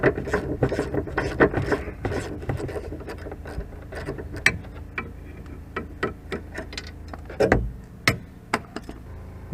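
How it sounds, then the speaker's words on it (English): Ratchet working a drop link nut loose on a MINI R53 suspension, giving dense repeated rasping clicks and scrapes at close range with a few sharper metallic knocks, no talking. "take a ratchet, and then holding the vice grips, you should be able to undo it like so"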